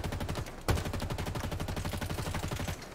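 Rapid automatic gunfire in Halo Infinite, shooting parts off a vehicle; a loud, steady stream of close shots runs the whole time, with one heavier burst or impact near the start.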